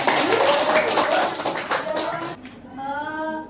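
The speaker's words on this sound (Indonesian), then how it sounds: "kita beri aplaus dulu untuk kelompok 3 nih" A classroom group in Indonesia gives a round of applause, loud dense clapping for a couple of seconds that stops abruptly, followed by a short burst of children's voices.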